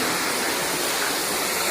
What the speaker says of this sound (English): Yeah, I left water running.